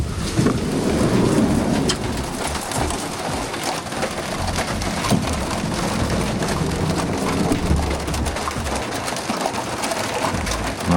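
Heavy rain falling on a Dodge Promaster camper van, a dense steady hiss and patter drumming on the roof without pause, with scattered louder drops and a low rumble underneath.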